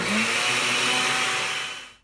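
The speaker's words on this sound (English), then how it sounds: "All right, so we got the blender there." A kitchen blender whirs loudly and steadily while mixing crepe batter, with a brief rising pitch at the start before the motor winds down at the end.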